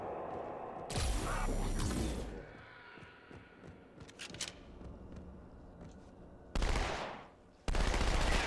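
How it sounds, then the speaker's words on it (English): Bursts of gunfire from a weapon in Halo 2: Anniversary, with a long rattling volley early on, scattered shots in between and two further loud bursts near the end, over busy game noise. "This gun is rubbish. It doesn't take him out."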